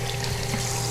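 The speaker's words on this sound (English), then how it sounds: "Gotta wash my hands." Hands washed under a running tap with no soap on a gravel driveway job site, a steady close rush of water without talk.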